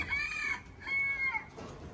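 Hens in a pigeon loft give two short, nasal, tonal calls in quick succession, close and moderately loud against a quiet background, with no talking.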